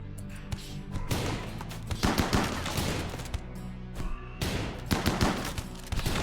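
Turret gunfire in the video game Rimworld, dense rapid bursts of shots and thuds running almost without a break, loud and busy, with no talking heard.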